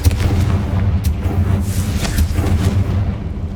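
A Confringo fire spell blasts in Hogwarts Legacy, a series of booming, rumbling explosions with a dense low roar, loud and sustained without speech.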